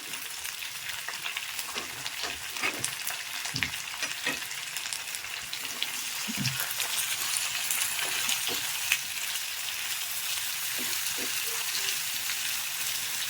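Onions frying in oil for a Bihari aloo matar curry, a steady close sizzle with occasional stirring scrapes and small pops throughout, no talking.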